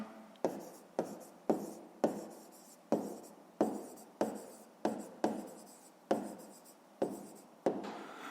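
Pen strokes on a sheet of paper while working a 5th-grade math exercise, roughly a dozen short scratchy bursts in a steady rhythm, close and fairly quiet with brief pauses between them.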